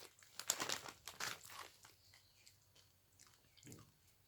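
A crinkly spicy chip snack bag being folded shut, soft crumpling and rustling in a few short bursts, quiet and close, with no talking.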